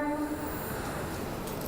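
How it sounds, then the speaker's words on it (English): Heathrow Express train running toward Terminal 5, heard from inside as a steady broadband rumble and rolling noise with a brief tonal hum at the start, continuous and fairly close with no talking. "So I'm on the Terminal 5 train."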